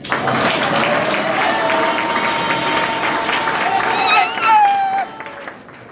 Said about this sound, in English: clap for her first